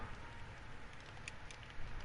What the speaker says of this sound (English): it's still raining out here